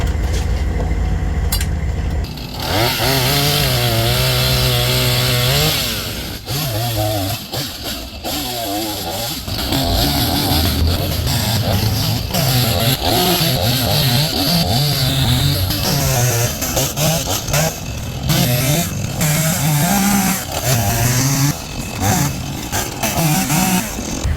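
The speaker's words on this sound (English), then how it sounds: "let's grab a chainsaw and get this thing out of the road." A chainsaw roars and revs steadily through a fallen tree after a hurricane, its engine pitch rising and falling, loud and close, with no talking.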